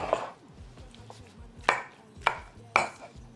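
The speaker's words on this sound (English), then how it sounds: "Avocado goes in. Avocado in. Time to mash." Avocado is mashed together with roasted garlic, lime and salt in a bowl, giving a few distinct thumping presses at an uneven pace, close and fairly clear over a quiet background.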